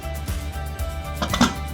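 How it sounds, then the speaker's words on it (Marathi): A pressure cooker lid being closed over brinjal curry: a brief metallic clink and scrape near the end, close by, over a steady low kitchen hum. "आणि आता कुकरचं झाकण बंद करून आपल्याला 2 शिट्या करून घ्यायच्या."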